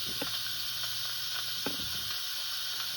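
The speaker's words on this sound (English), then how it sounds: "I released the rest of the steam off safely" Steam hisses from an Instant Pot pressure cooker holding lima bean and ham soup as the pressure is released: a loud, steady, continuous hiss with a few faint knocks underneath.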